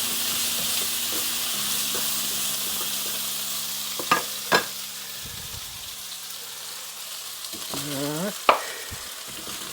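Potatoes with eggs frying in a pan, country style, give a steady close sizzle through the whole stretch, with a few sharp utensil clicks and scrapes, and a voice speaks briefly near the end.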